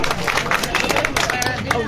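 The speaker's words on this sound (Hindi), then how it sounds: "जोरदार तालियां।" A crowd at a political party joining event claps, dense overlapping applause mixed with voices and babble, loud and close throughout.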